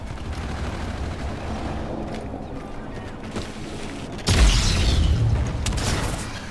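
In a shooter video game featuring an AK rifle, a heavy grenade-like boom bursts out partway through over ongoing gunfire and mechanical clatter, with no talking.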